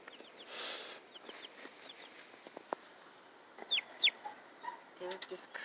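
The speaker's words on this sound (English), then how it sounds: "Look at the baby chickens." Baby chicks in a brooder give thin, high peeps in short bursts, with louder chirps near the middle and end of the stretch, while clucking fowl and a quiet voice sit underneath.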